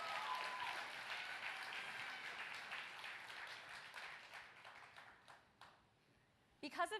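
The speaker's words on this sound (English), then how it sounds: "So please give him a round of applause." Steady applause from a gala crowd at the City Year Philadelphia Red Jacket Gala fills the room, then fades away, and a voice begins speaking at the close.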